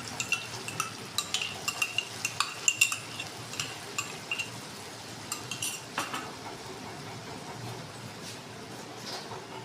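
Spices loosened with a little water and whisked sour yogurt are stirred in a pan for a Bengali katla fish curry, the spoon clinking against the metal in a quick irregular series, then quieter scraping.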